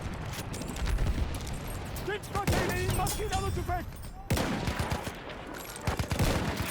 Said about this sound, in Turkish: Makinalı tüfek